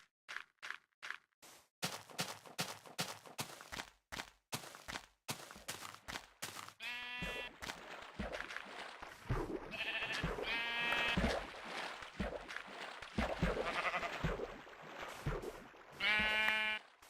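Sheep in the video game Minecraft bleat repeatedly, first short clipped calls in quick succession, then longer wavering bleats overlapping a busy background, fairly close and loud.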